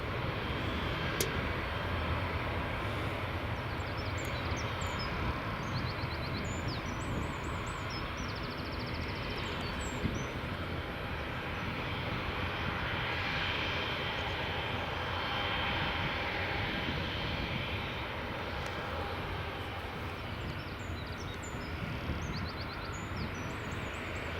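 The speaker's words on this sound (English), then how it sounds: "next it looks like we'll have another EasyJet or Airbus coming in." A jet airliner, an EasyJet Airbus, approaching Edinburgh Airport, a long steady engine rumble and whine holding at a distance throughout, with no talk.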